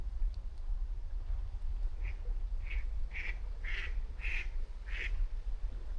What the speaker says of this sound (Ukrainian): Качки плавають дикі.